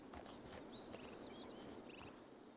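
Horse hooves clip-clop in a video game as a horse approaches, a rhythmic series of soft hoofbeats moving closer amid faint background game sounds and high chirps.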